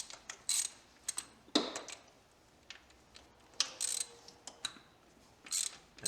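A ratchet wrench loosening a 13 mm bolt on the thermostat housing of a 5.7 Hemi Dodge Magnum gives several short, close bursts of clicking, spaced irregularly with quiet gaps between.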